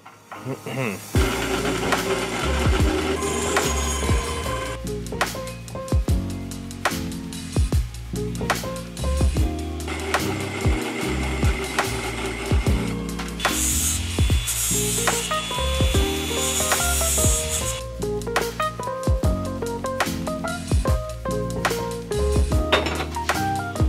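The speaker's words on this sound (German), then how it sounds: "Das müssen wir jetzt erstmal aufsägen" Saw cutting open a metal workpiece for a large drill conversion, with steady back-and-forth strokes that run loud and continuous throughout, close by, amid scattered clanks from the workshop.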